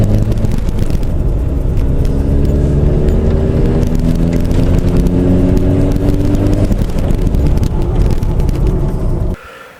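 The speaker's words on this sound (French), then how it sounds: "Là, le C5 est en échappement libre." Loud, steady rumble of a Citroën C5 engine running with an open exhaust, a rough droning note with rising harmonics as revs climb slightly, heard close up from inside the moving car before it cuts off abruptly.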